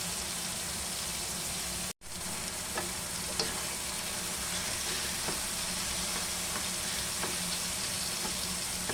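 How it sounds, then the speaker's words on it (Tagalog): Mung bean sprouts and tomato frying in a pan give a steady, close sizzle, with soft, scattered stirring taps and no talking. "So, halo lang natin mga kapalangga."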